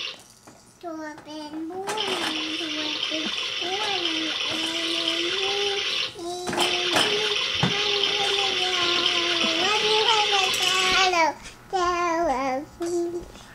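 Tap water runs steadily into a basin as a child washes hands and face, with a child and an adult talking over the flow in short gaps and bursts.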